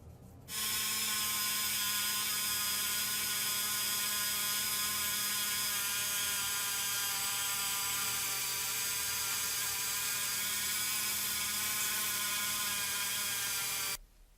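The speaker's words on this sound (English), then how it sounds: "So I used a little bit of metal polish and a brass wire wheelie just to kind of clean this up" Brass wire wheel spinning against a Matchbox die-cast car base during cleanup with metal polish, giving a steady, loud high-pitched whir that runs unbroken for about thirteen seconds, with no talking.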